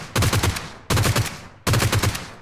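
Three short bursts of G36c rifle fire in PUBG Mobile, each a rapid run of about five close, loud shots separated by brief pauses.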